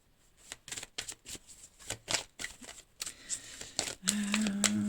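Tarot-style cards shuffled close up in a dry, papery riffle of bursts and flicks, building to a denser, steadier shuffle near the end, with a faint tone underneath.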